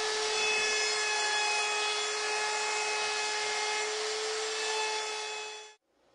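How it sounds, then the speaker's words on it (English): Router fitted with a 1/4 inch round-over bit shaping the top and bottom edges of a wooden tabletop, a loud steady high-pitched whine running continuously for about six seconds before cutting off abruptly. "And then I round the top and bottom edges of the tabletop with a 1/4 inch round over router"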